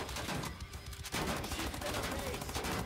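Rapid gunfire from the shooter game Wolfenstein rattles in dense bursts, pausing briefly before resuming louder and continuing in a steady stream of shots.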